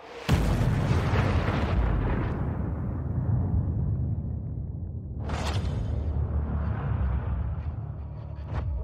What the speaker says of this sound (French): la bombe explose à environ 600 mètres du sol